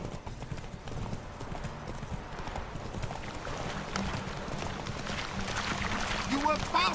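A horse gallops in The Witcher 3 video game, its rhythmic hoofbeats drumming steadily at close range under game music and faint voices, with a brief higher whinny-like sound near the end.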